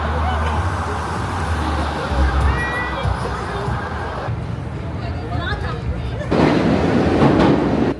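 A New York subway train rumbles steadily through the Times Square station, loud and continuous, with a busy crowd murmuring and talking in the background.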